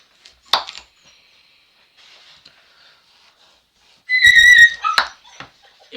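A puppy gives a sharp yip, then after a quiet pause lets out a high, wavering whimper followed by another quick bark, close and clear.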